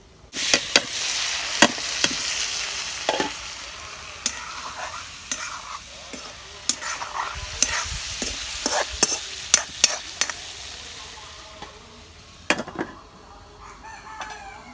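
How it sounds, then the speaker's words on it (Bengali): Rohu fish is sautéed in a pan for a curry with bottle gourd, sharp spatula scrapes and knocks repeating over a soft continuous sizzle, close and fairly loud. "মাছ আজকে ভাইজা রান্না করুম না আজকে কষাইয়া রান্না করুম"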